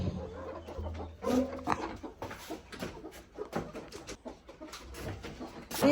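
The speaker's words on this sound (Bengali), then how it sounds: "নিচে ছাড়বো বড় মুরগিগুলো।" Hens on a farm cluck in short, scattered bursts at close range, joined by other bird calls over a quiet, uneven background.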